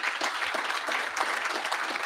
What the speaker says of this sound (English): can I please get some applause for all our amazing speakers?